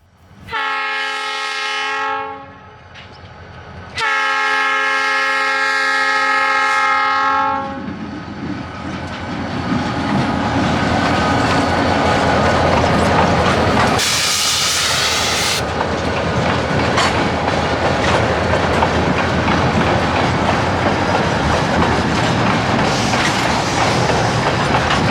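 A Milwaukee Road GP40 diesel locomotive blows its horn in two long blasts, then rumbles past with loud, continuous clattering of rail cars.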